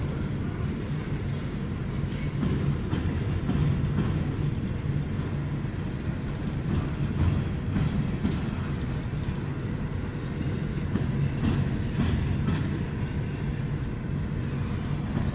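A Conrail freight train passes at a distance, giving a steady broad rumble and rolling roar that holds for the whole stretch with mild swells, no speech over it.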